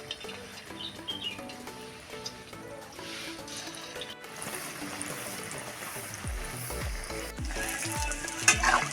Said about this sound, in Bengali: আমি এইভাবে হালকা গরম তেলেতে দিতে হবে। বেশি গরম হয়ে গেলে সঙ্গে সঙ্গে লাল হয়ে যাবে।